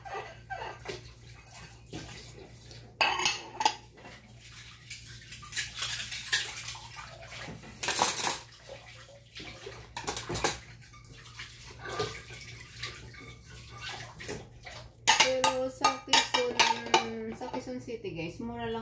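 Dishes clatter and clink in a sink with running water and scraping, in irregular bursts, with a voice speaking briefly near the end.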